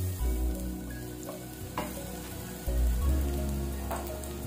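Garlic sautéing in oil for a seafood paella, a close crackling sizzle with occasional scraping stirs and brief pops, alone with no talking.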